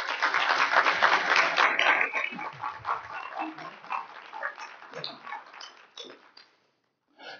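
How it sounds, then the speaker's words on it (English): Congregation applause in a church service, a dense burst of many hands clapping that thins into scattered claps and a few murmured voices before fading to silence. "Let's give the Lord a round of applause"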